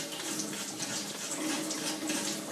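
Cold tap water running steadily from a faucet while a ceramic water filter is scraped and cleaned, a continuous soft splashing hiss at moderate volume with no voices.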